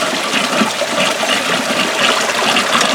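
Water rushes steadily into a pipe set down in mud, a loud continuous gushing with no pauses and no voices.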